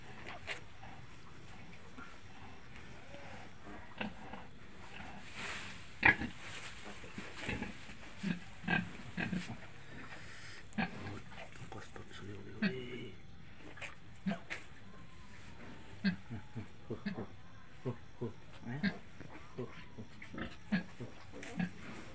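A domestic sow that has just given birth grunts faintly in short, scattered snorts, repeated irregularly over a quiet background, with occasional voices nearby.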